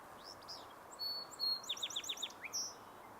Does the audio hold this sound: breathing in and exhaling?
no